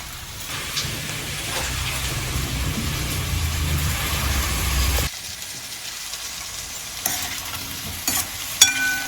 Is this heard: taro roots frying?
yes